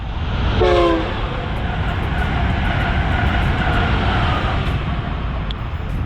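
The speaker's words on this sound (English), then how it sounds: "this is what happened when you shoot next to train station" A passing train rumbles steadily while a short horn blast sounds near the start; no talking.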